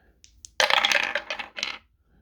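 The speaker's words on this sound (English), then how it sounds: "I'm going to roll those dice up" Dice for a board wargame clatter onto a hard surface in a short burst of rattling clicks, loud and close, followed by a few quieter settling taps.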